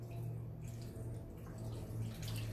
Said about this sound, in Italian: vado ad aggiungere 150 ml di acqua